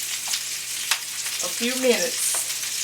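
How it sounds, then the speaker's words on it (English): Polska kielbasa sausage sautéing in a pan, a continuous bright sizzle with occasional stirring knocks, while a voice speaks briefly over the frying. "I just, because I'm going to saute them"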